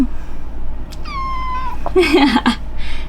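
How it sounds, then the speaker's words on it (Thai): A cat meows indoors in a new home, a clear drawn-out meow followed by a few shorter, louder yowls, close by with faint room noise. "แล้วก็ น้องแมว"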